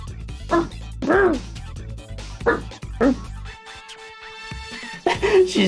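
A woman mimics a dog's barking with several short, loud voiced yaps in quick bursts, mixed with her ordinary talk; a faint steady tone hums in a gap near the end.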